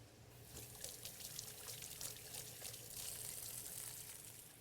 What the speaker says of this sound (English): I'm going to go ahead and wash my hands because I'm handling raw pork.